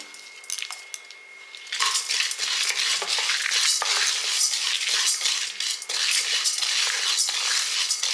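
Round dried red chillies fry in a pan. After a quiet start, a steady, bright sizzle takes over, broken by frequent scraping and clinking as a utensil stirs them.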